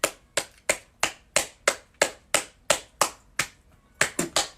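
Steady, rhythmic hand clapping, about a dozen sharp claps in an even beat with a quicker cluster at the end, close and clear with no voices.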